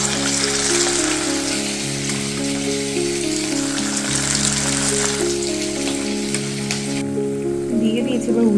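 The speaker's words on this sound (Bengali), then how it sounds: "ভালো করে ফ্রাই করা হয়ে গেছে," Chili chicken frying in hot white oil in a wok, with a loud, steady, dense sizzle that runs continuously and stays close throughout, shifting slightly in texture near the end.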